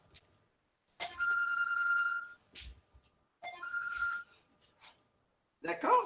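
A mobile phone rings with an electronic ringtone, two bursts of steady tonal beeps with a short gap between them, followed by a brief rustle of handling at the end.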